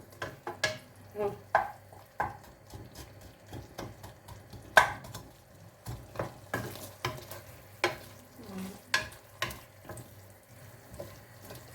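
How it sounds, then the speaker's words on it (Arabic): Food fries in a pan on a home stove, soft sizzling beneath frequent clinks and scrapes of stirring, with uneven knocks and a gentle watery rustle throughout. "دابا يتقلى مزيان."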